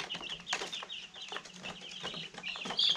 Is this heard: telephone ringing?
no